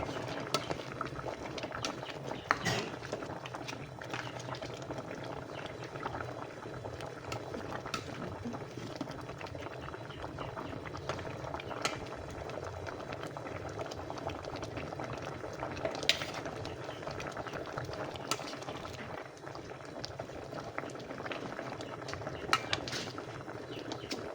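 Ginataang monggo, a mung bean stew with mixed vegetables, simmers in a pot, giving a soft, continuous bubbling and gurgling, faint and close, with the occasional clink of a utensil against the pot.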